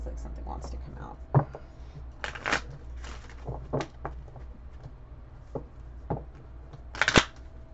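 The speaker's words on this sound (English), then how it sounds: "Let me shuffle one more time." Crisp riffling bursts of a deck of cards being shuffled, several quick shuffles spaced out over a low background hum, with a louder final flurry near the end.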